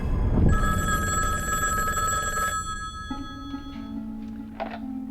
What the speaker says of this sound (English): It all began with a phone call.